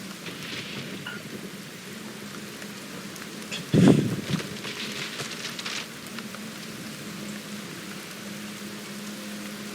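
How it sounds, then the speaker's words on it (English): Rain falling at dawn makes a steady hiss throughout, and a sudden rumble of thunder swells near the middle before fading back into the even downpour. "As the rain begins to fall and dawn comes"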